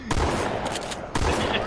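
Pistol gunfire in a Halo every-player-for-themselves match, two loud bursts of shots close together with a short gap between them.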